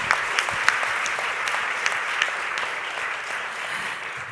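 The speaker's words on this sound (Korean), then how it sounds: "박완 테너님께 다시 한번 감사의 박수 보내주시기" Audience applause thanking a tenor at a security training program's entrance ceremony, a dense, even wash of clapping with a few sharper individual claps standing out.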